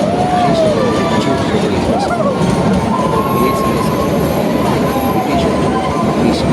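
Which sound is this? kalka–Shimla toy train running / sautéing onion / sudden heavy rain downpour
kalka–Shimla toy train running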